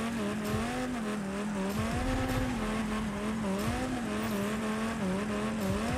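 A car drifting in Rocket Racing, its engine droning steadily under a sustained tire squeal that rises and falls with small wavers as the drift is held.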